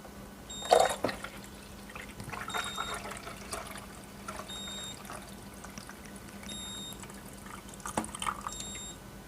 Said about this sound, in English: you can just fill up the water inside there.